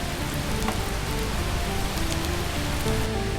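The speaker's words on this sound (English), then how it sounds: "It is absolutely pouring." Heavy rain pouring down hard outdoors near Hollywood Cemetery, a dense, steady hiss of drops striking surfaces with no letup, loud and close.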